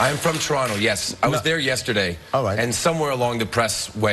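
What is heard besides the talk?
No distinct noise like a dog, phone or traffic.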